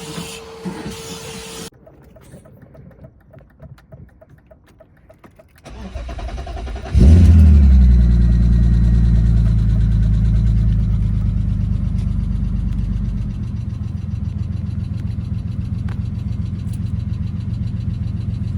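BMW E36 M3 engine cranking and catching, then settling into a steady idle with a faint rapid lifter tick riding over the low rumble, close by after a few quieter clicks beforehand.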